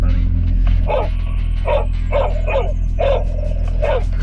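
A dog chasing a drone barks in a steady series of about eight sharp barks over a loud, constant low hum, with a brief spoken word early on.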